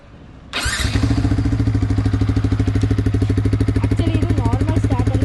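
A Yamaha MT-15 motorcycle fitted with an aftermarket silencer and bend pipe starting up up close: a quick crank catches into a loud, deep, rapidly pulsing idle that thumps steadily to the end.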